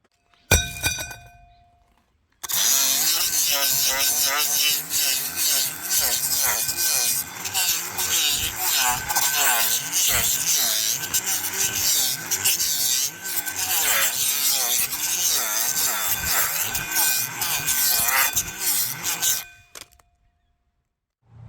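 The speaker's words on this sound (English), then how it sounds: "time to get that flywheel on. Better give it a clean up first." A flywheel being cleaned before installation in a Ford Falcon, with continuous harsh scrubbing and rasping from a close abrasive tool for about seventeen seconds, starting and stopping abruptly.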